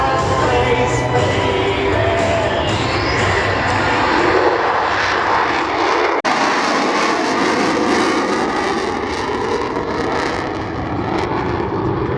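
At the Australian International Airshow 2025, a loud aircraft engine roars steadily overhead for the whole stretch, its pitch sweeping as the plane passes, with a crowd audible faintly beneath the drone.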